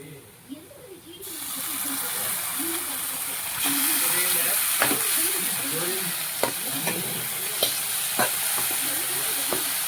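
Chicken goes into a pan of golden-brown fried onions for a homemade chicken curry, and a loud hiss of frying starts up and grows stronger, broken by sharp scraping stir strokes, while a person talks over it.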